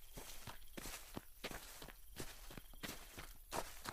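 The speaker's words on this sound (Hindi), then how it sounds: "पीछे से किसी के पैरों की आवाज आने लगी।" Footsteps crunch through a forest in a spooky animated scene, a steady walking rhythm of soft thuds and rustles, close and quiet with no talking.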